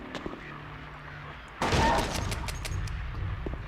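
Gunfire in the Silent Hill 2 video game: a sudden loud burst of shots kicks in partway through after a quiet stretch, then a rumbling, noisy tail with scattered cracks continues.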